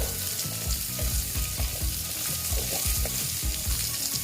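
Small-cut potato pieces fry steadily in a pan for a potato and chana dal dish, a dense continuous sizzle with soft clinks and scraping from stirring throughout, close and alone with no voices.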